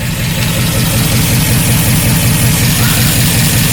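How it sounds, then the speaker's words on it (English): A 1953 Oldsmobile Rocket Super 88 barn-find engine runs steadily at idle, a loud, continuous low rumble with an even pulsing beat and no speech throughout. "So the engine's been running for a while."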